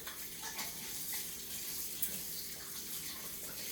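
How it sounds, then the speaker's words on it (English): Hands washed under a running kitchen tap while baking, a steady close rush of water with faint splashing and no talk. "Wash my hands."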